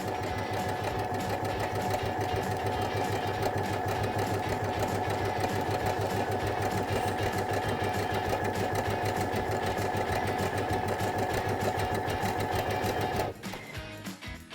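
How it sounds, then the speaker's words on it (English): A Baby Lock Brilliant sewing machine runs steadily, stitching a gathering row down the edge of fabric with a loud, even mechanical whir that holds for about thirteen seconds, then stops abruptly into quieter handling noise. "stitch right down the edge of your fabric"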